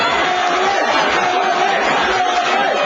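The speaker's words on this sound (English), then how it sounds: "And the crowd chants." Spectators at the 2006 Nathan's hot dog eating contest chant together in a loud, dense, sustained crowd roar with a rhythmic vocal pulse.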